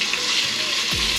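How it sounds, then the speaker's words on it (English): Bacon bits fry in hot oil in a pan, a continuous bright sizzle up close, with a brief low scrape or clink near the end. "Okay, so we'll go on and fry our bacon bits."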